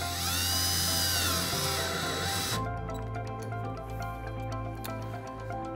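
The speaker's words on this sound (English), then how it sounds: "take your three self-tapping screws that are included. Use a drill, it'll be helpful." A power drill driving self-tapping screws into an RV screen door, whining loudly at high speed, then dropping abruptly to a lower, slower steady whir for the remainder.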